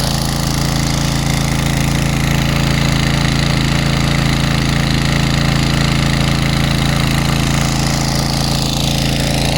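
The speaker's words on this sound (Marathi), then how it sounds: "ट्रॅक्टर धुतो इंजनच्या पाण्यानं म्हणजे कसा प्रेशरने चिखल सगळं जातं" A loud engine-driven water pump runs continuously with a steady rattling drone and hissing spray, close up, pressure-washing mud off a tractor.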